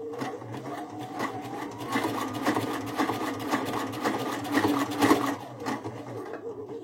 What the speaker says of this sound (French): Une machine qui va pas très vite, elle fait je crois 450 points à la minute.